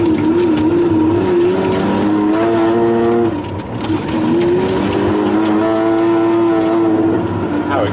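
A Pagani Zonda 760RS engine accelerates hard, its loud rising tone climbing through a gear, dropping at a shift and climbing again, steady and close throughout.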